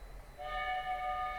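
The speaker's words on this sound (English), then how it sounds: "The train is arriving at the station." Train pulling into a station in the video game Sherlock Holmes: Crimes and Punishments, a steady tonal whistle or horn chord rising suddenly out of low rumble and holding loud and sustained.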